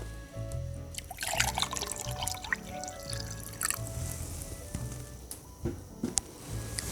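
Water is poured into a cooking pot for rice in a chicken yakhni pulao, producing close, uneven splashing and trickling with a few drips.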